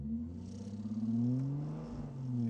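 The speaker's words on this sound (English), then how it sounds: "Whole car's vibrating." Steady low engine drone with a rough, shuddering vibration from a damaged car in The Grand Tour Game, a Grand Tour tie-in racing video game on PS4, droning continuously without speech.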